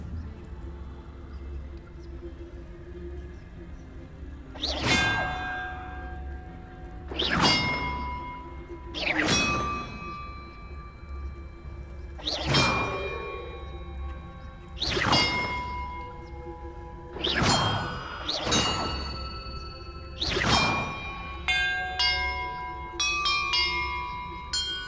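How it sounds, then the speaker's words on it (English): A series of bells struck one after another in the Hogwarts Legacy video game, seven bright ringing clangs spaced a few seconds apart, each decaying slowly, followed by a quick rising cascade of chime tones. "the order I'm supposed to ring the bells in"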